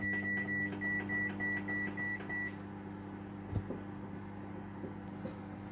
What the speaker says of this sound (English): we're going to put it in a microwave. And you need to cook it on high power for 5 minutes.